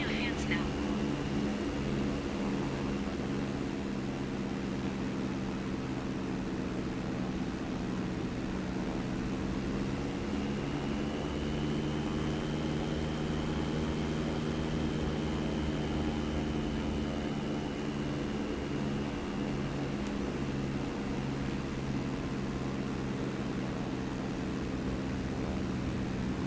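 Steady aircraft engine hum and whine while taxiing in Microsoft Flight Simulator 2024 on PS5, a continuous drone with a rising and falling tone, with voices talking over it.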